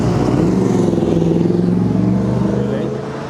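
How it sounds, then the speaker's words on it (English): A car engine rumbles loudly close by on a street during a drag racing weekend, a steady throbbing mid-low drone that holds for a few seconds and then begins to fade away. "Watch out, there's a car coming."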